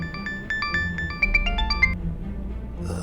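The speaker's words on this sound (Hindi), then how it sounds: "घर से बार बार फोन आ रहा है।" A mobile phone ringtone plays a short, bright run of electronic melody notes over a quiet indoor background. The ringing stops after about two seconds.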